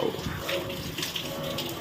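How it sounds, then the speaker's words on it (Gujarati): Heavy rain pours down outside in a dense, constant rush of water, close and loud throughout the short stretch. "જો ખાલી વરસાદ કેવો પડે છે."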